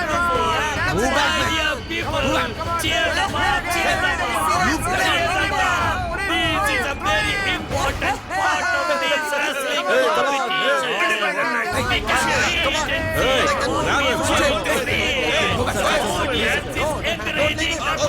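A crowd at a competition keeps up a dense, loud hubbub of cheering voices and shouts throughout, steady and close.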